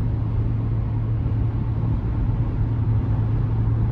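A 2023 Chevy Tahoe RST cruising on the interstate, heard from inside as a steady low road and engine rumble with a constant drone, uniform and unbroken throughout with no talking.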